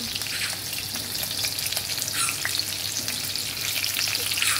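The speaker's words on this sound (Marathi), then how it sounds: "याला चांगलं फ्राय होऊ देपर्यंत चांगलं मिक्स करून घ्यायचं आहे।" Green chillies frying in hot oil for kadhi, a steady close sizzle with light stirring scrapes throughout, no voices.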